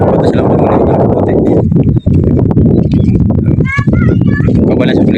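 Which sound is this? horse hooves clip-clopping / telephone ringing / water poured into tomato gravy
horse hooves clip-clopping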